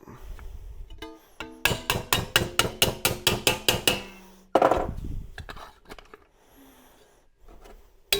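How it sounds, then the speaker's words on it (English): A hammer rings out in a rapid run of about a dozen sharp, evenly spaced metallic blows on a steel repair panel for a Mk2 Ford Fiesta. A few scattered taps and scrapes follow in a quiet workshop. "start helping it along the way with the hammer."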